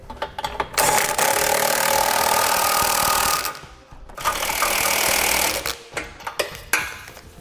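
A power tool snugs down the hardware on a Draw-Tite Max-Frame trailer hitch receiver, running in two long loud buzzing bursts with a few short blips before, between and after them.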